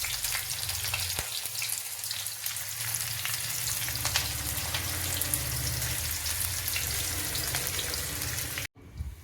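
Onions fry in hot oil over ginger-garlic paste for homemade Hakka noodles, a loud, steady sizzle running close and continuous with faint stirring scrapes, cutting out briefly near the end.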